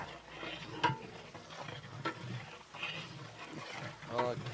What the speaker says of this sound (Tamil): வெங்காயம் வதங்கும் போதே மல்லி புதினா தழை ஒரு முக்கா முக்கா கட்டு அளவுக்கு சேர்த்துக்கணும்